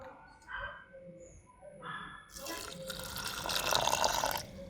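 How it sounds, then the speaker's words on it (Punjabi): Water pours into jaggery in a pot, a bright splashing fill that begins midway and builds for about two seconds before stopping, after brief quiet talk. "ਹੁਣ ਆਪਾਂ ਇਹ ਚ ਪਾਣੀ ਪਾ ਦੇਾਂਗੇ"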